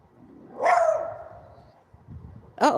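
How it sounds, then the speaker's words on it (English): A single upset dog barks or yelps once, fairly close and loud, with a drawn-out whining tail, followed by a brief quiet stretch and then another sharp sound at the end. "somebody's dog is upset"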